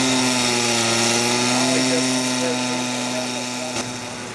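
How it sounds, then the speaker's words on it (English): Steady, loud roar of a cutting torch or grinder removing excess iron from a freshly cast thermite rail weld after the mold is stripped, a continuous dense hiss with strong low hum throughout, fading slightly near the end. "The mold has been removed and the excess iron is being cut away."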